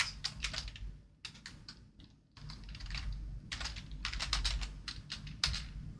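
Rapid bursts of typing on a computer keyboard while writing a small code test, close and crisp clicks in uneven runs separated by short pauses.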